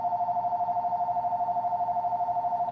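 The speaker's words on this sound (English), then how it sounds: "Yeah, phone ring." A telephone rings steadily and moderately loud, a continuous warbling electronic tone pulsing in rapid even cycles for the whole stretch, with no talk over it.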